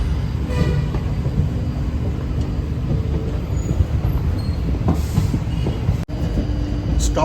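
The Nilgiri Express rumbles along on a steady run from Coimbatore to Chennai, heard from inside the carriage as a loud continuous roar with rhythmic rail clatter throughout.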